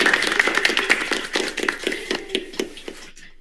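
A person claps by hand in a quick, even series of sharp, close slaps, about a dozen in a row, over a faint humming tone, with the strokes softening toward the end.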